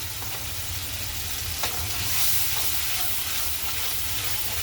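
Five green chillies sizzle in a bubbling curry of katla fish head with coriander powder and water. A dense, steady frying hiss sounds up close with a low rumble underneath and no talk.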